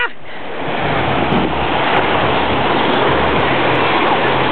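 Ocean waves and surf rolling onto Iwaki beach, a steady, loud broadband wash that fills the whole stretch without a break, with some wind noise on the microphone.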